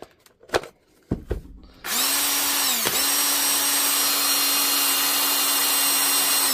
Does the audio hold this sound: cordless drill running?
yes